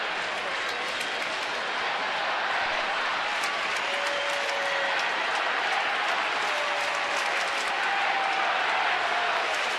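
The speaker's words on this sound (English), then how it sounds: "Crowd entertaining themselves with the wave. That's all the noise." A baseball stadium crowd doing the wave at a Boston at Baltimore game, a sustained, dense roar of cheering and clapping that stays loud and steady throughout.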